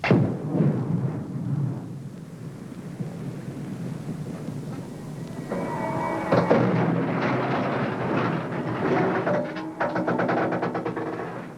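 Rock blasting for a pipeline trench: a heavy, close explosive boom opens, then a long rumbling roar of debris and settling rock that lingers and swells again before fading.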